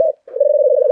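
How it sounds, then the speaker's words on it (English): A pigeon coos nearby, a steady, loud, low hum broken by one brief gap before a long, sustained purring note. "Pigeon."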